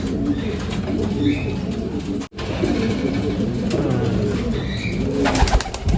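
Pigeons in a colony loft coo repeatedly in low, overlapping murmurs against a steady background hum, with occasional higher chirps and a brief dropout partway through.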